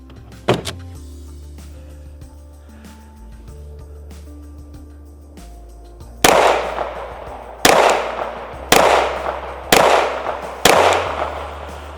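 Five sharp pistol shots from a handgun fitted with an Olight Osight S micro red dot, fired outdoors in a steady rhythm about a second apart, each loud crack trailing into a brief echo, after a quieter stretch of low hum and small clicks.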